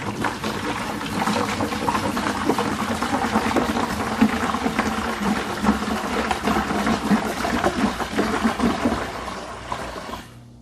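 Fresh, clean tap water pours steadily into a vessel for a peach mead made with honey and preserves, a continuous close splashing rush that holds evenly for about ten seconds before tapering off.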